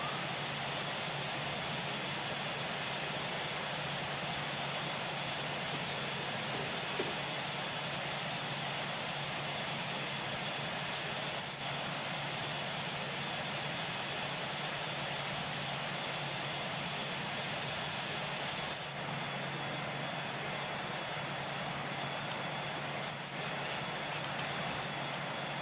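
Airbus A350-900 jet engines at climb power in a flight simulator, a steady loud broadband roar with a constant drone, unbroken throughout, tone thinning slightly partway through.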